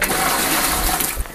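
Water gushing and splashing as it is poured onto a motorbike on an icy mountain route between Chopta and Rishikesh, a loud continuous rushing splatter that drops off abruptly near the end.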